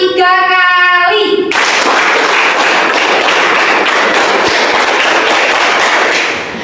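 A classroom of students claps a rhythm together in unison, with a series of sharp, even claps close by. A brief tonal sound comes just before the clapping starts.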